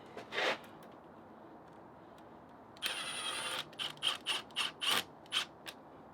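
Ratchet tightening an 8mm hose clamp while pulling the engine from a 2017 Ford Focus RS, a series of quick clicking pawl bursts in rhythmic strokes, close and fairly quiet.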